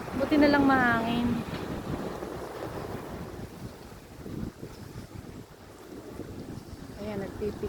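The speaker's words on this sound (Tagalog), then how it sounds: "Buti na lang mahangin." Wind buffeting a microphone on a sunny seaside morning by the ocean, a steady low roar with surf-like rushes throughout, while a voice speaks briefly at the start and again near the end.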